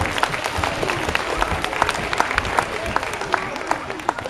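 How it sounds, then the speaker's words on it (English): Audience applause for a volunteer at a children's agriculture show in Kentucky, a lively burst of many hands clapping with distinct sharp claps standing out, voices faintly mixed in. "Let's give my volunteer a big round of applause."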